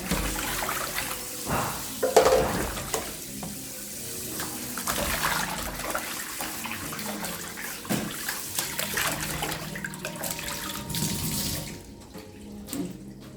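Water pours steadily from a tap through a filter, splashing and gurgling with some clattering, easing off slightly near the end.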